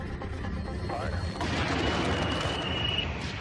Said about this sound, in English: Pilot Brian Binney fired the rocket.